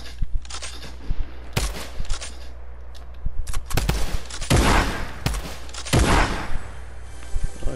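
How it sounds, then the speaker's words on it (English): Double pump shotgun fire in a video game, a run of loud, sharp blasts arriving in quick irregular bursts, some doubled, with dense gunfire crackle between them. "I'm gonna get a double compact shotgun."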